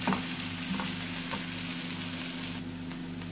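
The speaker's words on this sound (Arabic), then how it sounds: "واول حاجه احط البصلايه بتاعتنا كده تاخد لها تشويحه" Onion sautéing in a pan for an Egyptian shakshuka breakfast gives a steady, close sizzle with a low hum running underneath and no voices.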